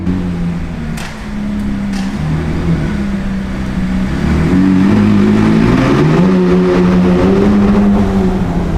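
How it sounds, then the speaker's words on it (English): A supercar engine in Hong Kong revs hard toward its redline, a loud, steady, rising mechanical roar that climbs in pitch over several seconds, close to the listener with no talking. "It's actually my first time redlining this car."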